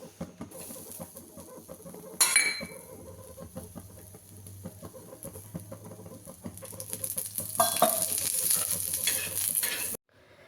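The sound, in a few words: onion roasting and stirring in a pan for fish curry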